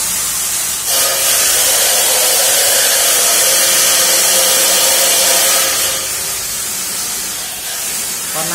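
A 12V 150W pressure pump sprays water in a loud, steady, broadband hiss, swelling after the first second and easing slightly toward the end.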